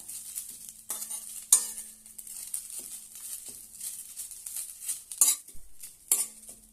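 Fresh mint leaves being dry-roasted in a pan for mint chutney, with quick scraping stirs of a utensil against the metal and faint crackling, the strokes coming in short irregular bursts with quiet gaps between.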